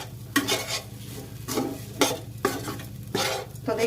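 Dal and gram flour being dry-roasted and stirred in a pan while making halwai-style khasta kachori, with repeated scraping strokes of a spoon or spatula against the metal at a steady rhythm, close and fairly clear.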